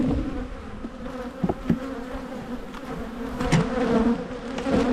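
Honey bees buzz around an open hive in a dense, steady drone, with individual insects zipping past close by and no voices over it.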